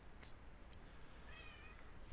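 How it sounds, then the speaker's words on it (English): A cat meowing faintly in a quiet room, a few short high calls near the start and a longer thin wavering meow in the middle, soft and somewhat distant, with no talk. "Kitty, come here. What are you squealing about?"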